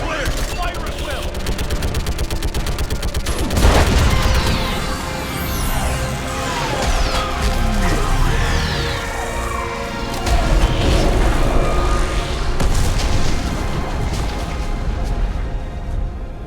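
Heavy gunfire and booming blasts from an orbital strike in the video game Mass Effect 3, loud and continuous, with shots and explosions layered over one another throughout.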